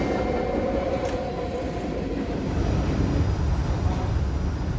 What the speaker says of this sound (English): Here comes the Cleveland subway train right now